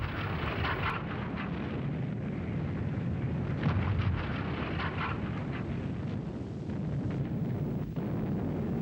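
WWII Allied artillery fire rumbles in a continuous, dense roar of explosions for several seconds, steady and moderately loud with no clear gaps and no talking.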